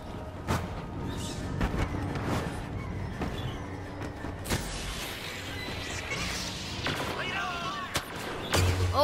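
Star Wars Battlefront gunfire: a steady run of sharp blaster shots and blasts over a dense battle din, some close and loud, others farther off, with a few faint voices underneath.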